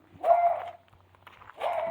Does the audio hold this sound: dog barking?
yes